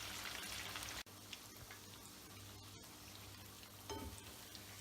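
Chicken pieces fry in hot oil with a soft, steady sizzle and crackle, a sharp pop near the start and bursts of bubbling, quiet and close with no talking.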